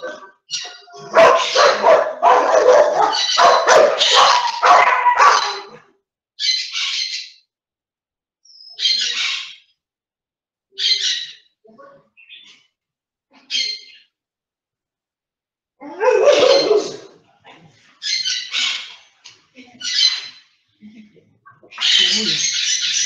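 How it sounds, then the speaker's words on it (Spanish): A dog barks repeatedly in loud bursts, starting with a dense run of barking and then continuing in shorter separate barks with pauses, fairly close, with faint bird chirps around it. "voy a callar este perro"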